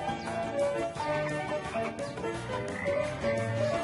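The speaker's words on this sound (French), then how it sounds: "Oh, et là, une grenouille." Frogs croak continuously in a dense outdoor chorus in a cartoon, moderately loud, with overlapping calls and no voices.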